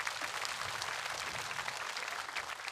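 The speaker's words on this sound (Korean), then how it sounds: "두 어른 스님에게 따뜻한 감사의 박수를 부탁드리겠습니다" Steady, dense applause from a large crowd at a Buddhist ceremony fills the space evenly, continuous clapping heard without talk.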